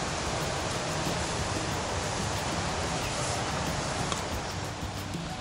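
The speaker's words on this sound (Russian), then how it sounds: "Поток шумит слева от тропы." A broad, steady rushing roar of a mountain stream beside a trail, constant and fairly distant, with no voices.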